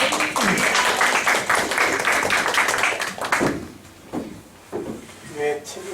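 A university lecture audience at a smart-teaching seminar claps in a dense, steady burst for about three seconds. It then thins to a few scattered claps and faint voices in the hall.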